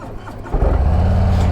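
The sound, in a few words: 2022 Harley-Davidson Street Glide ST motorcycle engine starting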